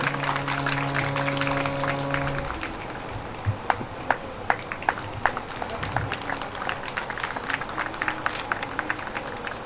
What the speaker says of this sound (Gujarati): તાળીઓના ગડગડાટથી આપણે સ્વાગત કરશું એમનું